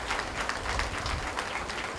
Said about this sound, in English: would you please give these kids a round of applause?